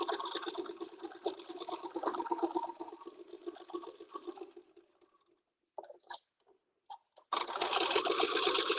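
A sewing machine runs a stay stitch around a tote bag in steady rapid bursts, pauses briefly with a few soft clicks, then starts up again.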